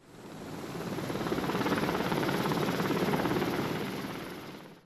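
A helicopter flies during a flood evacuation of villages in Turkey, its rapid rotor chop swelling in loudness, holding steady, then fading slightly as it passes, with no talking.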